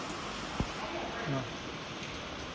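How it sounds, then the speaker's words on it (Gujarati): Steady rain patters continuously in the background, soft and even, with a brief knock partway through. "જો મિત્રો વરસાદ કેવો જો તમને બતાવું"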